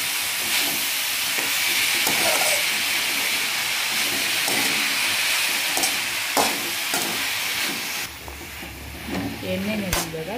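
Ganake greens fry in oil with a loud, continuous close sizzle and hiss, marked by repeated scraping stirs, before the hiss drops and some clinks and rustling follow.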